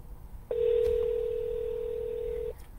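An automated telephone dialer used for real estate cold calls plays a single steady electronic tone lasting about two seconds, close and clear over faint background hiss, with no talking.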